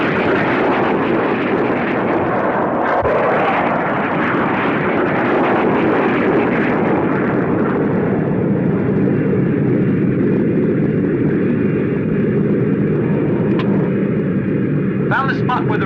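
Observation planes in the 1965 Gamera monster film fly with a steady, loud broadband drone across the whole stretch, accompanied by dramatic film sound, with a faint rumble underneath.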